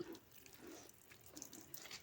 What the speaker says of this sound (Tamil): தண்ணி நம்ம டேப்லேருந்து பாதி பிடிச்சிக்கிடலாம்